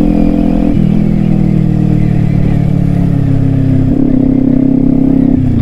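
Kawasaki Ninja 400 motorcycle engine running steadily while riding, with a loud, close drone that shifts pitch at each gear change and carries on without pause.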